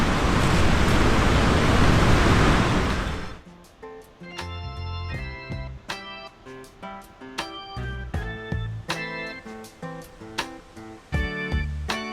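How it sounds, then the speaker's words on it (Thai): Waterfall at a national park, a loud, dense rush of falling water roaring for about three seconds before cutting off, followed by music. "น้ำตกอยู่ตรงข้างหน้าเราแล้วค่ะ"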